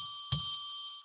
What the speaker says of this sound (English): we are now going to ring the bell so that we can declare sacred space